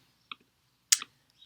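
Sparse clicks of computer keyboard keys in a quiet room, a couple of light taps followed by a sharper pair of keystrokes and a faint final tap.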